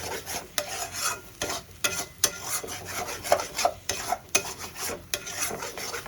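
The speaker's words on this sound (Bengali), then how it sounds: "সবগুলো মশলা আমি খুব সুন্দর করে কষিয়ে নেবো যাতে কাঁচা গন্ধটা" Spices with a spoonful of sugar are sautéed in a pan for Kashmiri aloo dum, a utensil scraping and stirring in a quick, uneven rhythm over a low sizzle, close and loud, with no talking.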